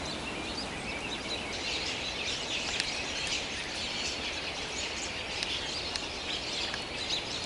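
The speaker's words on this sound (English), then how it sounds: "This is why the robins are here." Flock of migrating robins calling among honeysuckle shrubs laden with berries in a Michigan autumn; dense, continuous high chirps and tweets from several birds overlap at moderate distance, with no talk.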